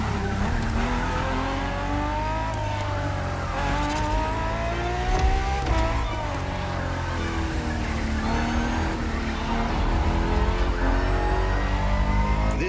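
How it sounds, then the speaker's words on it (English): Ferrari FXX K hybrid supercar, a track version of the LaFerrari, driven hard in The Crew Motorfest: a loud engine climbing and dropping through gears, with tyre squeal in corners, continuous and close. "For this second lap, you'll be driving the FXX K."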